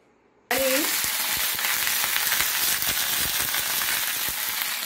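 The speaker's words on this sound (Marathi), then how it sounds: "तेल छान गरम झालं की त्यामध्ये हे टाकूया वांगे." Eggplant pieces hit hot oil in a wok and burst into a loud, continuous sizzle right after a brief quiet moment, crackling steadily up close.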